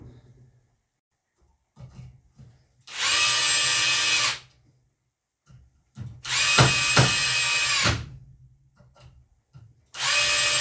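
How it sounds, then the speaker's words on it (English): An SDS Plus drill fitted with a bit holder drives screws in three loud, steady whirring bursts of about one to two seconds each, separated by quiet pauses with faint handling noise. "with this butt holder, you can easily drive screws like that"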